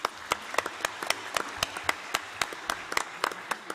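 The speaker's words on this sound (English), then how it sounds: "If we can give them another round of applause" A small audience claps for the panel members at the close of a panel discussion on gender roles and landscape restoration. The claps are sparse and distinct, a brief round of moderate loudness, with no one speaking.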